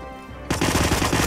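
Rapid automatic gunfire from the Hitman video game bursts in suddenly after a quiet lead-in, a loud close stream of fast repeating shots with no voices.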